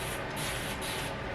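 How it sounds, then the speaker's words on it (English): A spray bottle mists water thoroughly over a back section of hair before styling gel goes on, a steady close hiss lasting the whole moment with no talk. "Spray it very thoroughly with water."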